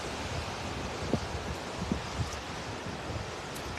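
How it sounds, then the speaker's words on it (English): Low, gusty wind buffeting a microphone, a steady rough hiss with a few soft thumps, fairly faint and without speech. "The wind makes it harder to hear you."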